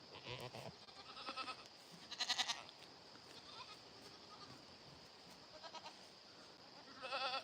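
Goats bleat several times, faint and somewhat distant, with short bursts of bleating scattered over a quiet outdoor background.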